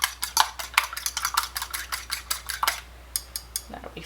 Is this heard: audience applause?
no